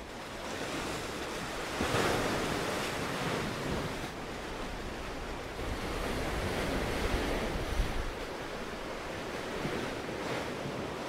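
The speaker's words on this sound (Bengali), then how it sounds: "বেশ ভালো কিন্তু হাওয়া দিচ্ছে এখন, মেঘলা ওয়েদার পুরো" Wind and sea waves roll onto the shore at a beach camp on Mousuni Island under cloudy skies. The surf is a continuous, rushing wash with wind buffeting the microphone, steady and unbroken throughout, with no voices.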